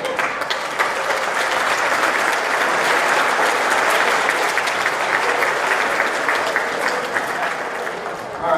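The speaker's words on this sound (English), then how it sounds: "When they come out, let's give them a big round of applause." At a 2017 tribute concert for the 1976 Yuba City High School class, a large audience claps in a sustained, even roar for performers coming onstage, holding steady for several seconds before tapering a little.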